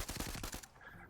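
Gunfire from a gun in a VR video game, a short rapid burst of loud repeated shots lasting about half a second, followed by a fading tail.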